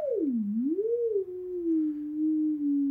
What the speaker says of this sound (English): now we actually hear the sound generated by the sound module